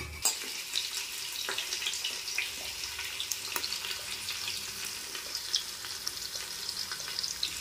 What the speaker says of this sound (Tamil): பாருங்க எண்ணெய் காஞ்சிருச்சுங்க, தாளிக்கிறதுக்கு போட்டுடலாங்க.